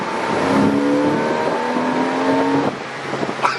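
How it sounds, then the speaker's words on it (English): Intake roar from a Porsche 986 Boxster S with its intake snorkel deleted, rising loudly under acceleration with climbing harmonic tones, then dropping off abruptly after about two and a half seconds into a quieter engine idle. "That intake is crazy."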